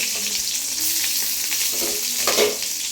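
Small onions and spices sizzle in hot oil in a pan, a bright, steady frying hiss with a few stirring scrapes near the end, close and alone without talk.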